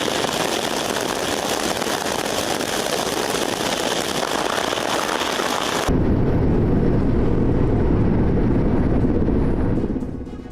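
Russian attack helicopters during a strike in Ukraine make a loud, continuous broadband roar that abruptly changes at about six seconds into a heavier, deeper rumble, which fades slightly at the end.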